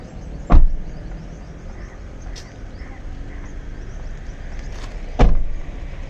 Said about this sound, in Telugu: ఫస్ట్ ఆఫ్ ఆల్ ఈ వెహికల్ యొక్క డోర్ని అయితే నేను క్లోజ్ చేస్తాను.